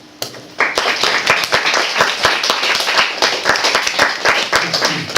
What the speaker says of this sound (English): So if you can join me in a round of applause